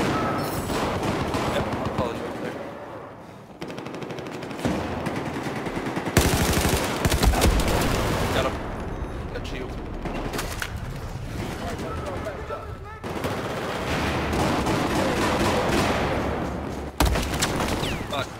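Rapid machine gun bursts roll through a video game firefight, loud and sustained with heavy gunfire and explosions, while players talk over the shooting.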